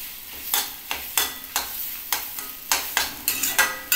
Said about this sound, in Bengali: মশলাটাকে এটাকে ভালো করে কষিয়ে নিচ্ছি।